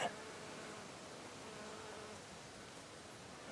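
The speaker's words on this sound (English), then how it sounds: "there's a really unusual bee there" A small, unusual bee buzzes around a geranium in a sunny garden after rain, a soft, continuous low hum that holds steady over faint outdoor background noise.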